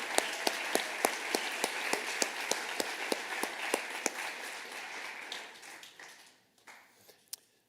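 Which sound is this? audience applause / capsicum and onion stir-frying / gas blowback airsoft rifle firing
audience applause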